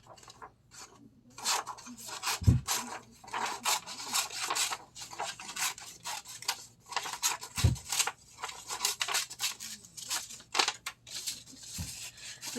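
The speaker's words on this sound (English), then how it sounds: "We're gonna go ahead and cut." Paper leaves for a flower are cut out with scissors, giving repeated rasping snips in irregular bursts, close and clear, with a few soft thumps between.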